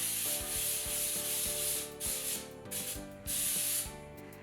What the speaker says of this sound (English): I love using the cooking spray that has flour in it. It's called baking spray because it has flour.